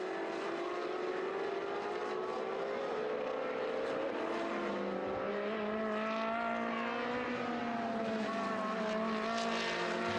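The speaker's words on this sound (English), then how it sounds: "There's Babylos heavy braking now into turn 1, Florian Merckx the same, and also Max Blancardi" Trofeo Pirelli race cars at the Valencia circuit, their engines droning loud and steady with pitch sliding down as they brake hard into turn 1, several cars overlapping.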